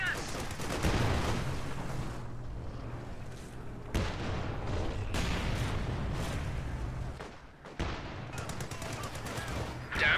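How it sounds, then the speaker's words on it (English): Battle gunfire in Company of Heroes: sustained rattling machine-gun bursts and rifle shots, loud and dense, with sharp cracks and a dull distant boom, under in-game voices. "Someone's shooting us!"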